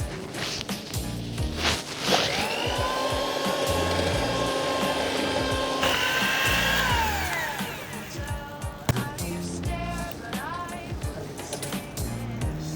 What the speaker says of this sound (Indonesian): Dan diaduk dengan menggunakan mixer.